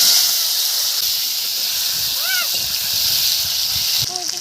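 Cumin seeds and potatoes dropped into hot oil, a continuous loud hiss and sizzle throughout, with a short voice-like tone partway through and a change in texture near the end.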